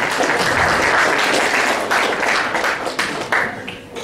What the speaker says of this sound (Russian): а искупайте их в овации.